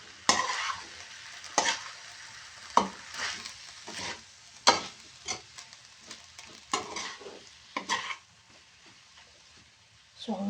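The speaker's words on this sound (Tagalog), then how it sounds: "Haluin natin." A spoon stirs ground beef with red kidney beans in a pan, giving repeated scraping strokes over a soft sizzle, close and fairly quiet, with brief pauses between strokes.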